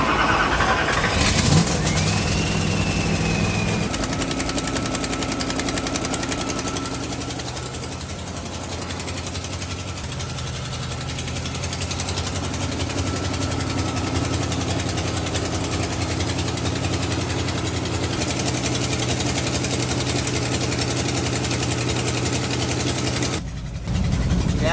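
A turbocharged Dodge Coronet 383 Magnum big-block V8 runs loudly and continuously after its first start, a rough steady roar through the muffler with a faint rising turbo whistle early on.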